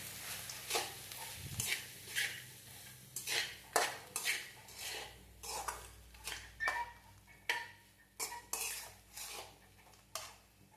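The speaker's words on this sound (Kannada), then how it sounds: "ಚೆನ್ನಾಗಿ ಮಿಕ್ಸ್ ಮಾಡ್ಕೊಳ್ಳೋಣ ಅವಲಕ್ಕಿನ, ಇದನ್ನು ಮಸಾಲೆನ." Flattened rice (avalakki) being stirred with masala in a pan, a spoon scraping and clinking against the metal in a steady, irregular rhythm, close and fairly quiet with no talking.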